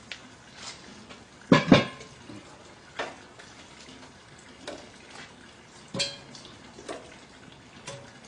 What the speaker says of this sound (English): All I'm doing is placing my extra coals on top of my Dutch oven lid.